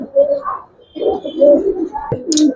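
Old-breed Giribaz pigeons, coloured and silver, coo close by in soft, throaty repeated phrases, with a short sharp tap and a brief high chirp near the end.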